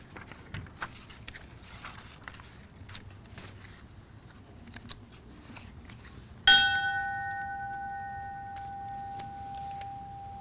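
One clear strike of a memorial bell at a fallen firefighter ceremony in Edmonton, Alberta, rung by a firefighter's grandsons, cutting through quiet outdoor ambience and ringing on with a long, steady, slowly fading tone.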